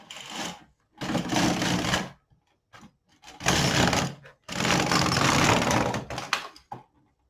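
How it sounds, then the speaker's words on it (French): LK 150 knitting machine carriage pushed back and forth over rows of waste yarn, with three long mechanical rattling passes and a few short clicks between them, close and fairly loud, with no talking. "on va faire quelques rangs avec notre fil perdu sur les aiguilles"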